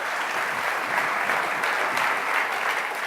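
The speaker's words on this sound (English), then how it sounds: "Let's have a round of applause." A conference audience claps for a speaker, a steady, even wash of many hands clapping at moderate volume that holds without a break.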